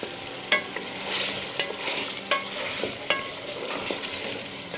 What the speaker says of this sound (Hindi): इसको अच्छी तरह मिक्स करके